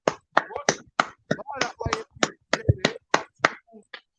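Sharp, separate claps and snaps, roughly a dozen in an uneven rhythm, at the close of a podcast episode, close and dry with little crowd sound.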